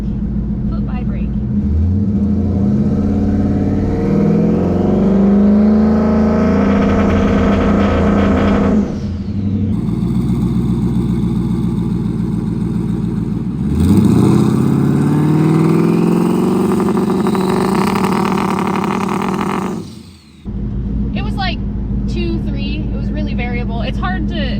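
A twin-turbo Mustang held on the trans brake revs hard in loud, sustained bursts, its engine note climbing and rumbling close by, then dropping off and surging again, while people talk over the noise.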